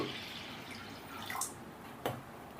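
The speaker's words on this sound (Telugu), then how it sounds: "ఇప్పుడు వాటర్ పోసుకుందాం" Water is poured over washed toor dal for idli sambar, heard as a few faint splashes and drips, a soft pour and then a single brief splash, quiet against a low room hiss.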